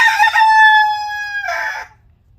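Close, loud rooster crow from a young naked neck chicken kept in quarantine, one strained drawn-out call that breaks into a raspy ending before fading out.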